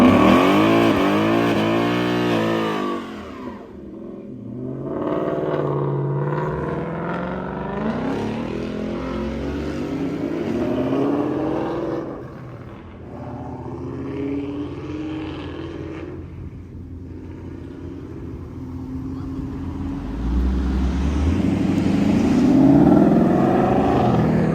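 A ProCharger-supercharged car at a Memphis car meet revving hard up close, with rising and falling engine surges and supercharger whine over a series of long loud pulls.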